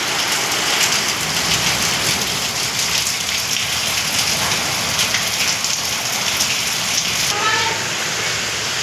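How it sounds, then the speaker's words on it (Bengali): Heavy rain falls steadily on a home in Bengal, a dense, constant hiss of drops on surfaces close by with no break throughout. "আজকে বৃষ্টি পড়ছে, বৃষ্টি কিন্তু ভালো বৃষ্টি হচ্ছে আবার।"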